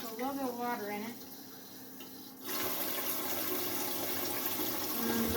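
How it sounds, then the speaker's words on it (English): Water is poured into a glass jar of dill pickles, a steady splashing gush that begins a couple of seconds in after a brief voice and keeps running. "I'm going to put a little bit of water in it"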